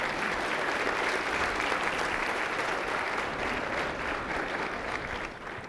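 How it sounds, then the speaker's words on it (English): A large hall audience at a 2018 State of the City address gives the engineering team a sustained round of applause, a thick, even wash of clapping that holds for several seconds before easing slightly at the end. "Let's give them a round of applause for accomplishing"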